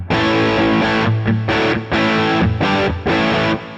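Overdriven electric guitar with the volume pedal nearly off, playing a rhythmic run of distorted chords with brief gaps between strums; steady, close and loud, with no talking.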